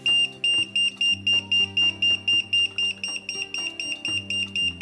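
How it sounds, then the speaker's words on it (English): A non-contact voltage detector sounds its alarm during a sensitivity test, giving a steady run of loud, evenly spaced high-pitched beeps, about four per second, with no talking. "An alarm."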